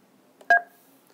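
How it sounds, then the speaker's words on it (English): A single short DTMF keypad tone sounds as the pickup key is pressed on a Zultys Zip 35i office phone, clean and close against near silence. "I can go to any other phone in the system and then hit the pickup key right there."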